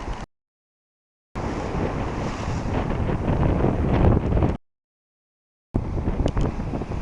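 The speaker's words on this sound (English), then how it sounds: "show you how windy it is" Strong coastal wind on a seaside hiking trail on Jeju, South Korea: loud, rough gusts buffeting the microphone in two stretches separated by abrupt silent gaps, with surf-like roar beneath and no talking.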